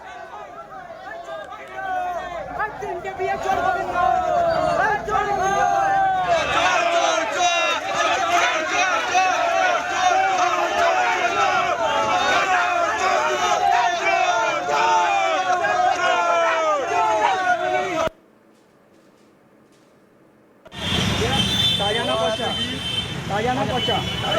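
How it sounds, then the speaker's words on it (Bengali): An angry street crowd chants 'chor chor' (thief) at an arrested local councillor being taken to court, many voices shouting over continuous chatter and commotion, cut by a brief near-silent gap before the noise returns. "তার দিকে উড়ে আসে একের পর এক ডিম, পাশাপাশি ওঠে চোর চোর স্লোগান"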